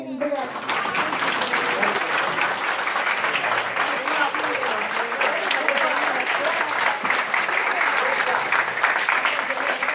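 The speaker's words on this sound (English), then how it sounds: "Let's give them one big round of applause" An audience at a religious function in honour of a revered Gurudev applauds steadily for about ten seconds, dense, even clapping with scattered voices mixed in.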